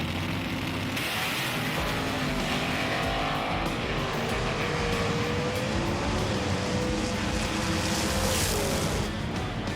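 Race cars Purple Nurple and a Holden at a racing event, with a loud, sustained engine roar throughout and a rising, wailing engine tone as they charge down the track, plus faint tire squeal.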